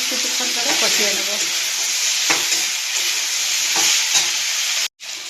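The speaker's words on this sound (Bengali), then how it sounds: "এবার এগুলোকে আমি আরও বেশ কিছুক্ষণ ধরে কষিয়ে নেব।" Vegetables with cumin powder and chopped green chilli sauté in a pan, a loud broad sizzle with repeated scraping stirs close by that stops abruptly near the end.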